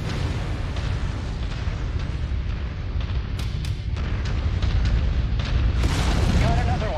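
Deep booming explosions roll out as mechs are destroyed in the Mechwarrior 5: Mercenaries video game, layered over a constant rumbling battle din, with someone talking and game voice announcements mixed in.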